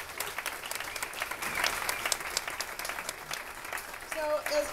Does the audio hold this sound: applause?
yes